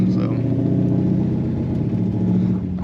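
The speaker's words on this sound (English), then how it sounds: "So this is just driving around. Just pull out of the driveway." A car's engine rumbling steadily up close as it pulls out of a driveway and drives off, a low continuous drone with someone talking over it.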